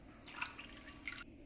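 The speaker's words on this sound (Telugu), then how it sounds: "ఈ ఐస్ క్యూబ్స్లోకి కొంచెం వాటర్ యాడ్ చేసుకోవాలి." Cold water is added to a bowl of ice cubes, giving quiet, close trickling and dripping splashes that swell briefly and stop abruptly near the end, with no voices.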